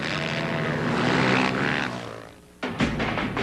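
A helicopter flies over the 2007 SCORE Baja 1000 off-road race course, giving a loud, sustained engine roar that fades briefly and then returns sharply.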